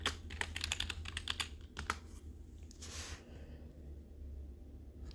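A room name is typed on a computer keyboard while building a dungeon crawler game in Quest. A rapid flurry of close key clicks gives way to a few scattered taps over a low background hum.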